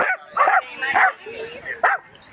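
Several dogs bark and yip in short bursts at a crowded party for over 80 dogs in Hackney, with people talking beneath the barks.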